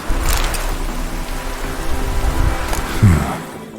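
Steady rain hisses throughout a stretch of The Witcher 3 video game, a constant broadband wash with a brief low rumble near the end, no voices.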